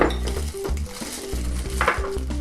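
Red pepper powder being stirred into a kimchi mixture, with repeated close scraping and knocking strokes of a utensil in a bowl, rhythmic and moderately loud, over background music.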